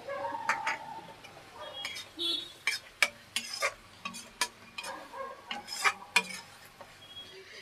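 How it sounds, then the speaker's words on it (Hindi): A spoon stirs potato-cauliflower curry with peas in a pan, with repeated scraping and clinking strokes against the metal in an irregular rhythm over a light sizzle, close and fairly clear. "ये अच्छे से इसको चला लेते हैं"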